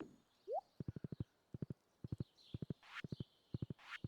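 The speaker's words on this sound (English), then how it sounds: "Come here, horsey." Horse hooves clip-clop in quick clusters of four or five sharp beats in the Stardew Valley farming game, opening with a brief rising whinny-like call, with faint ambient game tones underneath.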